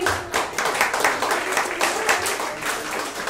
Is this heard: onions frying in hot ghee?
no